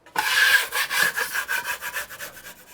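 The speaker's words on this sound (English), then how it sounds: "So I'm gonna scrape this and do my last coat." A drywall knife scrapes over joint compound on a wall before the last coat, a series of close, rasping strokes in a steady back-and-forth rhythm, loud at first and then fading slightly, with no talking.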